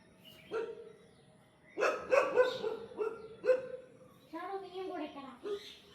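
A dog barks outside a house in a few loud, close bursts, with gaps between them and some yelping tones, while people talk over and between the barks.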